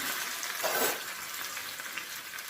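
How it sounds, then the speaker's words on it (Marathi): Coarsely chopped garlic cloves hit hot oil in a pan, a bright hiss that swells briefly then settles into steady close sizzling and crackling, with no talking. "आता इथं लसणाच्या पाकळ्या एकदम ओबडधोबड अशा बारीक करून घेतलेल्या त्या टाकायच्या."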